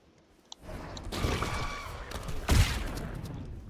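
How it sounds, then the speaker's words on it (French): Blasts from exploding Ah Puch corpses in a video game: a small pop, then two loud, rumbling bursts about a second apart, each trailing off, with a short click at the end. "Grosse explosion."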